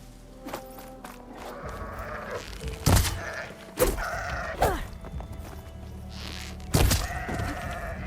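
Bighorn sheep in the Horizon Forbidden West video game let out several nasal bleats at irregular intervals, mixed with in-game sounds and scattered thumps.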